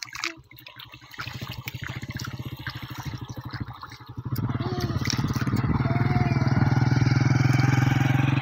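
A motorbike that had broken down is started on a mountain trip in the Koh-e-Suleman area; rapid engine pulses catch, then the idle grows louder and steadier, close to the listener.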